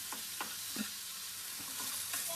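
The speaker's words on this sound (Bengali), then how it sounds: "দেখি নতুন ধরনের কি ডিম ভাজা হচ্ছে এইটা" Eggs frying with onion, tomato and chili crackle in a soft, steady sizzle, with a few stirring scrapes of a spatula at close range.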